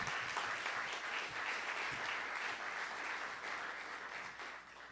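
A room audience applauds two speakers after a talk on affordable housing, steady sustained clapping throughout that thins slightly toward the close.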